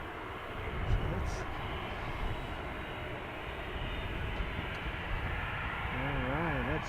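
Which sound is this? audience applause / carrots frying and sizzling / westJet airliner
westJet airliner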